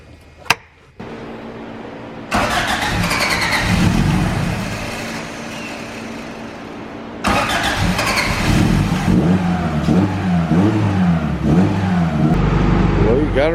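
A cheap, neglected Honda Civic engine starts up and runs roughly, rising into repeated revs that swell and fall across the clip; the engine sits close and loud, with people talking over parts of it.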